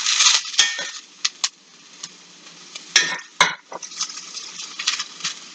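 Chunks of turnip and potato are stirred in a hot pan, with sharp scrapes and clinks of the utensil against the metal over a soft sizzle, some strokes louder than others.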